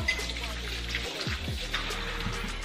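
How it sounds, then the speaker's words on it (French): A potato rinsed under a running tap, a steady splashing stream of water with a voice talking over it. "Donc je vais rincer la pomme de terre."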